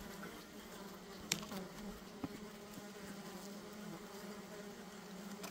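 Steady, faint buzzing of many honeybees around an open hive under inspection, a continuous low hum with a couple of soft knocks, no voices.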